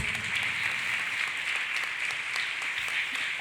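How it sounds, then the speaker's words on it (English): A church congregation claps hands steadily together, a dense, continuous patter of applause with no talking. "Let us clap hands for Jesus Christ."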